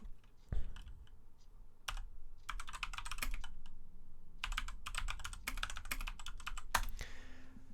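Quick bursts of typing on a computer keyboard, close and fairly quiet, with clusters of key clicks separated by short pauses and no one speaking.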